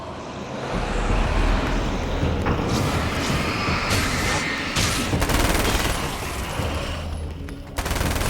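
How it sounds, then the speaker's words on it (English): Sustained, dense machine gun fire in the video game Alan Wake's American Nightmare, loud and continuous for several seconds with a brief lull near the end. "I like the machine gun."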